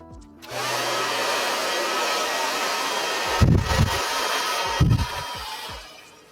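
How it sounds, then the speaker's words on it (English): A hair dryer blow-dries hair into a butterfly-bangs cut, switching on after a moment and then blowing in a steady, loud whoosh, with two brief low thumps near the end. "Now let's get that blow dried"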